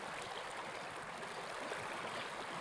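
River water flows steadily along an otter's stream, a constant close rushing and gurgling wash that fills the whole stretch without voices.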